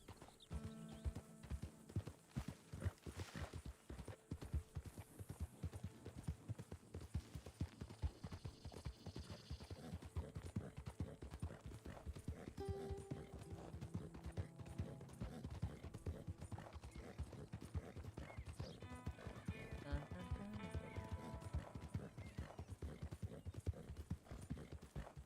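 Steady clip-clop of horse hooves in the Red Dead video game, continuous and fairly close for the whole stretch, with other game sounds and a brief whinny-like tone mixed in.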